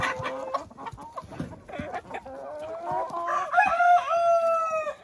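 Hens clucking and squawking close by in a busy henhouse after seeing beetroot, with rising calls and a crowing-like cry near the end, lively and continuous.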